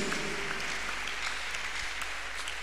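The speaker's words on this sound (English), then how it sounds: "I want us to clap our hands unto this God of the chosen." A congregation at a Tuesday miracle church service claps hands together in a continuous, fairly even wash of applause that fills the room at moderate volume, with no voices standing out.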